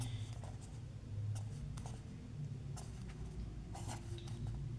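Numbers handwritten with a pen, giving faint scratchy strokes in short bursts over a low steady background hum, close and quiet.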